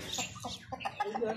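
An Australorp hen gives a quick run of several short, close clucks in a brief burst.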